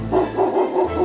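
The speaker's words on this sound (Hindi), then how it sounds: "बीच बीच में कुत्ते भी भौंक रहे थे।" Dogs bark at night in a quiet outdoor setting, about five evenly spaced barks in a quick steady rhythm, moderately close and clear with no other voices.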